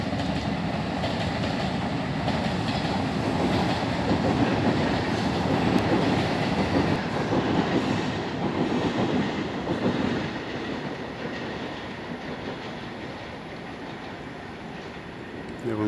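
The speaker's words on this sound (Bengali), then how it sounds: "দেখুন লোকাল ট্রেন যাচ্ছে।" A local train runs along a railway line beside a factory boundary wall. It makes a steady, fairly close rumble with faint clattering wheels that holds for the whole stretch and eases a little toward the end.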